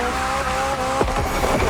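McLaren Elva supercar from the racing game The Crew Motorfest, engine roaring steadily with tire squeal and skidding bursts near the end, loud and close with no talk.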